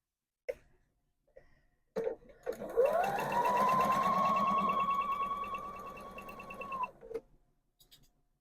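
Sewing machine running steadily for about four seconds while stitching scrappy quilt strips, a close, even whirring hum with a brief start-up and stop, surrounded by small handling clicks and rustles.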